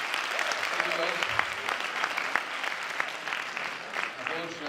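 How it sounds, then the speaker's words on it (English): Applause from the audience at a cybersecurity speech event, a continuous spread of clapping at moderate level, with voices and some talk mixed in. "Another applause for Mr. Makrygeorgou."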